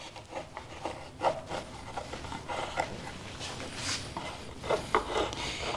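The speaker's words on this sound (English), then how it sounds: "Now I'm gonna take those big hunks of glue off with a chisel." Chisel scraping big hunks of hardened glue off a wooden box lid, with a steady rasping, rubbing scrape broken by sharper strokes, close and fairly quiet, no talking.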